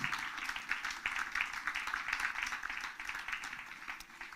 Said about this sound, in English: Mr. Alan Sembajo deserves a bigger round of applause.